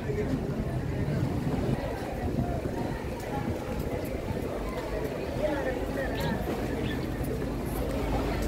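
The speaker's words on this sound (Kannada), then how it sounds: "ಒಂದು ಬೋಟ್ ಬರ್ತಾ ಉಂಟು ನೋಡಿ ಬೋಟ್ ಬರ್ತಾ ಉಂಟು" A fishing boat comes in toward shore, its low engine rumble and water noise running steadily beneath nearby people talking.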